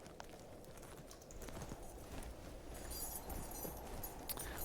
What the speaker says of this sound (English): Do you hear wind and the crunching footsteps of people walking through a mountain pass?